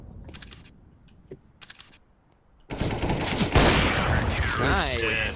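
Video game gunfire during a bomb-site round, faint clipped bursts early on, then a dense loud roar of shooting and effects taking over for the second half, with no voices over it.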